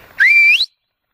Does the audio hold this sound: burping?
no